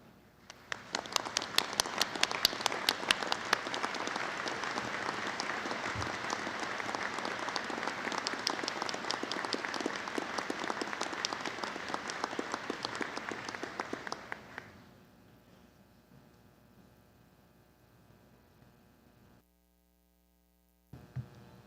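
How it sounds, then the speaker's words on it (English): A law school commencement audience applauds the standing faculty, sustained even clapping for about fourteen seconds before fading to quiet room hum. "join me in honoring them with your applause"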